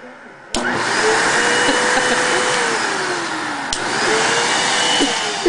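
A household vacuum cleaner roars steadily up close with a whining motor tone that dips and rises as it is pushed around, starting abruptly with a thump and briefly interrupted by a knock.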